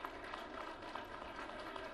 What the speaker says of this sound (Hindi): अपने लिए भी तालियां बजाइए